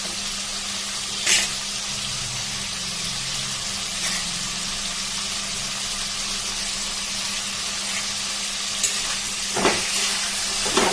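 Mashed flat beans and rubbed fish frying in hot oil in a Bengali kitchen, giving a steady, soft sizzle and hiss throughout with a few brief clinks of stirring, no voices.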